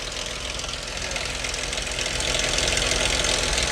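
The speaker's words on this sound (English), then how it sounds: "y'all hear that clattering noise?" A bad motor runs with a rapid, continuous mechanical clatter and knock over a dense engine drone, loud and close, growing slightly louder toward the end, with no voices.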